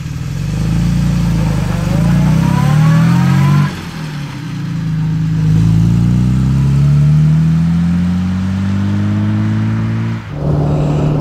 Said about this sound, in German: was bei diesem Auto wirklich überzeugt, ist der Motorlauf